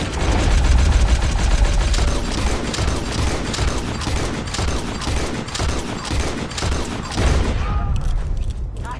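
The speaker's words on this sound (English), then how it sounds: "Nice shooting." Rapid, dense gunfire from Red Dead Redemption 2 crackles loud and continuous for several seconds, shots overlapping in a fusillade before thinning out near the end.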